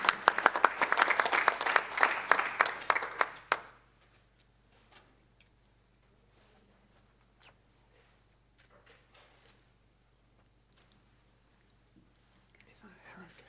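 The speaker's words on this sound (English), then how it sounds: "So they deserve a big round of applause." An audience gives a round of applause for panel members at an e-learning question-and-answer session, loud clapping for about three and a half seconds that then stops abruptly, followed by quiet room sounds and faint voices.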